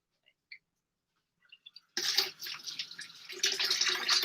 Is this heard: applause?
no